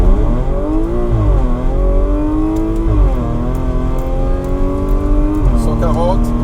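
An ethanol-fuelled, stage 3 Audi S5 pulls at full throttle from a standing start on a 400-metre run, its engine rising in pitch through several gear changes with brief dips between them, loud and close inside the car, with a voice speaking over it.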